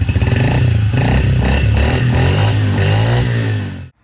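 A Yamaha TTR50 mini motorbike's small single-cylinder engine runs steadily after a cold start, a loud continuous buzzing idle with a slight rise in pitch, close by, cutting off abruptly near the end.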